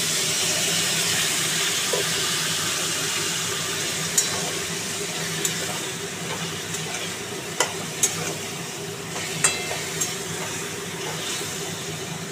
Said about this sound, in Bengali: আলু পটলটা বেশ ভাজা ভাজা হয়ে গেছে।